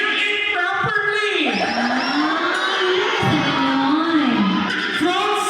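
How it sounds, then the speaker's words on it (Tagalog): A noisy crowd shouts and cheers at an outdoor variety show in Quezon, Panabo City, Davao, dense and loud, with a voice rising and falling over the din. "Sorry, the crowd is so noisy."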